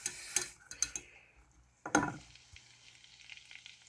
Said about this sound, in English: you're going to be adding your mustard and your Worcestershire sauce and mixing that into our butter mixture